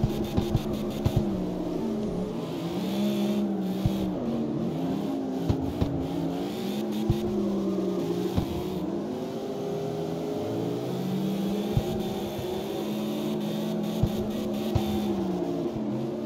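A drift car's engine in the video game CarX Street revs up and down continuously, rising and falling with bouncing throttle changes and occasional sharp blips, loud and alone with no talking.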